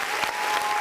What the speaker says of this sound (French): on fait un tonnerre d'applaudissements pour Monsieur Gims